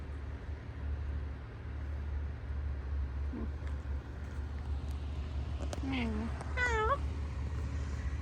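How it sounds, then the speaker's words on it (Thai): A cat meows several times near the end, short rising-and-falling calls close by at a holiday park campsite, over a steady low background hum. "หนูเป็นแมวของที่นี่ค่ะ"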